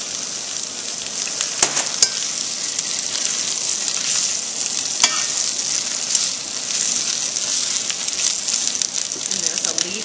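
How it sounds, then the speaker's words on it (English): Spinach sizzles steadily in hot olive oil in a pan while tongs toss and stir it, a continuous close frying hiss with occasional scrapes and small clicks. "I'm going to dump the spinach in here, and it's already sizzling"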